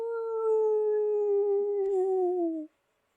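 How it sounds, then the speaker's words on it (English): A dog gives a single long, clear howl, steady and tonal, held close and loud for almost three seconds before sliding down in pitch and stopping, followed by silence. "Quiet, you're going to start a howl."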